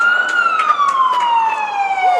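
A wailing siren at a race finish line sweeps steadily downward in pitch, loud and close, with faint crowd noise underneath.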